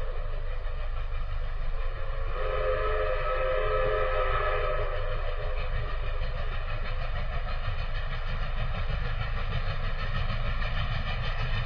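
A cartoon-style train rumbles steadily along, a continuous low rolling noise with a faint whistle-like tone rising in the middle, holding at moderate loudness throughout.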